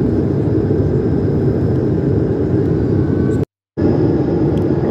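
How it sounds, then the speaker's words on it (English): Inside a Bulgaria Air Airbus A220-100 cabin on approach while flaps and landing gear deploy, a loud, steady low roar fills the space, briefly cutting out near the end before returning. "Right now the flaps are being deployed to their full position. I think that the gear is being deployed too."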